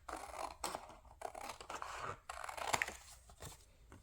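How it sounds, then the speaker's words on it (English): Scissors snip steadily through a vintage Christmas card with a snowman on it, a run of close, crisp cuts and paper rustles in a quiet room. "but you're going to cut your card out"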